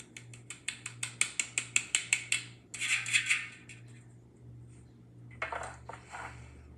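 A hand-crank flour sifter working over dry donut ingredients with baking powder, a close rhythmic series of metallic ratcheting clicks followed by scraping, gritty sifting bursts, with no talk.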